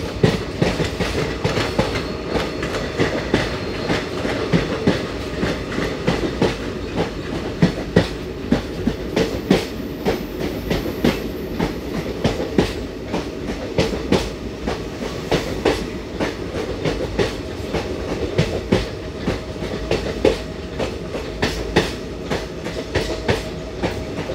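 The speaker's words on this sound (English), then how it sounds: "I'm sure you all are enjoying the track sounds." Steady clickety-clack of train wheels over rail joints heard from inside a 3A coach of the Mangaluru Vijayapura Express approaching Sakleshpur, with continuous rumble and rhythmic clanks throughout, no talk.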